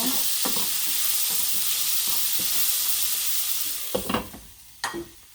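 Vegetables with jalapeño sizzle steadily in a frying pan, a loud continuous hiss with soft stirring clinks, then a couple of sharper scrapes near the end; no talking.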